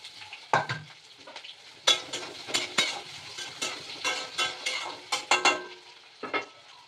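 Onions and curry leaves fry noisily in a pan for fish curry, with dense crackling and spitting and repeated sharp pops and scrapes of stirring.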